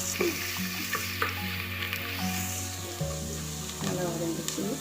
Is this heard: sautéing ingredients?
yes